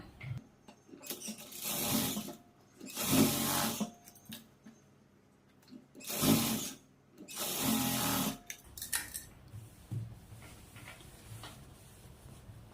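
A sewing machine stitches a half-inch blouse shoulder seam in four short, close bursts of rapid whirring separated by brief pauses.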